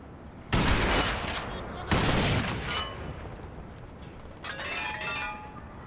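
Gunfire in the shooter game Crysis: loud bursts of rapid fire, two long volleys followed by a shorter one, mixed with mechanical clatter and a voice talking over the action.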